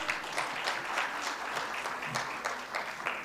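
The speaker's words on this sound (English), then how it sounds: "Please give them a big round of applause" Conference audience at a national clinical pathologists' meeting in Nepal claps in a brief, fairly soft round of applause, with uneven overlapping bursts heard from some distance.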